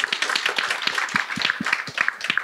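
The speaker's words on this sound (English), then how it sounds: "Round of applause, everybody." An audience applauds at a panel discussion, with dense, steady clapping that stays fairly even throughout without breaking off.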